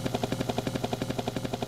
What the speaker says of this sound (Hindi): ये तो हेलीकॉप्टर।